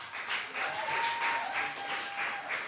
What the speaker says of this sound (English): And let's give a round of applause for our Carifta athletes as well.